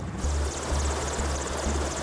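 A Merlin helicopter powered by three Rolls-Royce engines flies steadily, its loud continuous rotor and turbine roar dominated by a deep pulsing thrum, carrying troops across Afghanistan.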